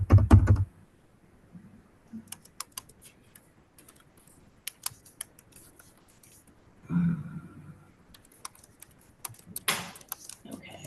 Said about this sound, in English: we're going to just type that in